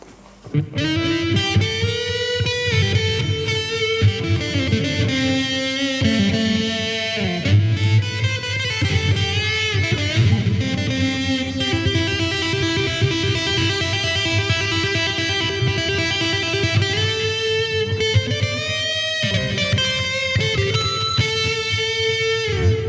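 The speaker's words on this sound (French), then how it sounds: "Ça, c'est ce qu'on appelle la distorsion." Electric guitar played through a distortion pedal, a sustained, gritty stream of notes and held chords, loud and continuous with no talking.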